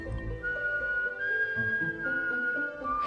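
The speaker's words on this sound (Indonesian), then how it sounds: "Tiba-tiba ia mendengar suara siulan dari seseorang." A person whistles a long, steady tune from a single held pitch, heard over a low background with music-like tones beneath it.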